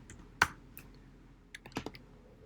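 A computer keyboard clicks quietly while a line of C++ code is erased: a single sharp keystroke, then a short cluster of several taps in a near, otherwise quiet room.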